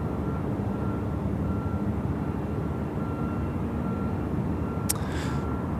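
A Boeing 737-800 MAX arriving from Brisbane lands at Sydney Airport, a steady broad roar of jet engines holding at constant loudness throughout, with a brief sharp click near the end.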